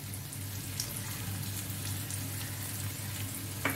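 Tomato with salt and spices frying in a pan, giving a steady, close, crackling sizzle that holds at an even level throughout with no talk over it.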